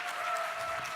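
Many worshippers in a Daejeon church clapping vigorously for a visiting pastor, a continuous, full wash of applause holding steady without pauses.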